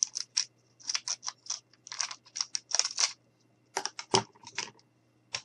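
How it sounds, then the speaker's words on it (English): Scissors snipping a little off sealed packaging, a quick run of sharp, close, crisp cuts in irregular bursts, with no talking. "now I'm going to take my scissors, and I'm just going to cut a little off"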